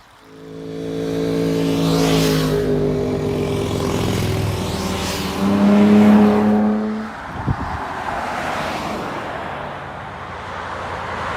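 A Lamborghini Huracan supercar revs in the mountains, its engine note rising and swelling to a loud peak before a sharp pop, then fading to a lower rumble.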